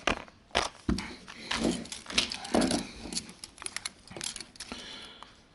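Clicks and small plastic-and-metal rattles as the release button on an Audi A4 B8 key fob is pressed and the key blade is pulled out, close up and fairly quiet, in a short irregular series.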